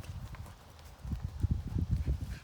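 A mare being worked from the ground trots, her hooves clip-clopping in a steady, close rhythm that grows louder partway through.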